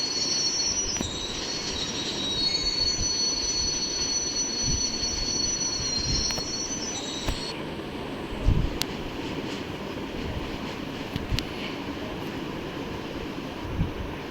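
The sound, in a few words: train braking, wheels squealing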